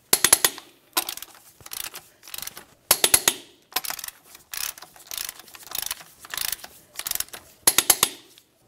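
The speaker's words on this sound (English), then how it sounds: "we'll torque these in a crisscross manner" A ratchet wrench tightens lug nuts on a 2000-2006 Chevy Tahoe wheel, close and loud, in repeated bursts of rapid clicking separated by short pauses.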